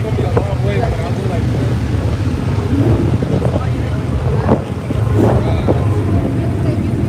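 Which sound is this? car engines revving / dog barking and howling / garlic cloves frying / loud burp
car engines revving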